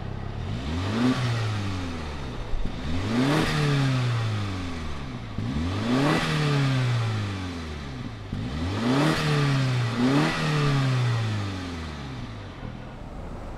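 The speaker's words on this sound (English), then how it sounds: "fire this up, and see what this Mini Cooper S sounds like" A 2019 Mini Cooper S convertible engine starts and then revs, rising and falling in about five strong sweeps close by, with no talking.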